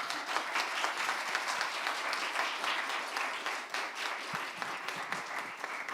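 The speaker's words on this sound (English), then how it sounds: "give these heroes of our soil a big round of" A conference audience gives a sustained round of applause for a soil health panel, dense clapping holding steady throughout at moderate volume, with no voices over it.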